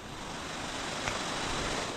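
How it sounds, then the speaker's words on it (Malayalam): Heavy rain driven by strong wind in a Kerala outdoor setting during a tamarind-picking trip, a dense steady roar of broadband noise with gusty swells, continuous and close, no voices. "കണ്ടില്ലേ മഴ, ഒരു രക്ഷയില്ല. അമ്പോ ഭയങ്കര മഴ,"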